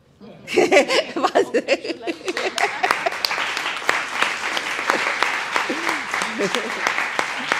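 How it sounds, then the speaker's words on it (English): An audience at an eTwinning STEM event on Ancient Greece resources applauds after a presentation. Scattered claps begin after a moment of quiet and build into sustained applause from a small group, with some chuckles and brief talk at the start. "So a big clapping for Maria."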